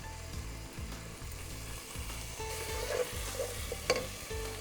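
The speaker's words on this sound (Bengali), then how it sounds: "এই মশলাটা ভালো করে কষিয়ে নিব" Spice masala with sour yogurt sautéing in a pan for a roast biryani: a steady sizzle with rhythmic scraping stir strokes and a few sharp clinks, close and moderately loud, no talk.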